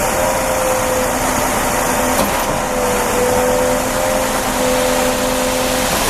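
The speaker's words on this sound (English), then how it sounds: "There we go, it's starting to run now, I think. There goes the pump." A concrete pump truck at a home construction site runs with a loud, steady mechanical drone and faint whine holding constant throughout, with one brief knock partway through.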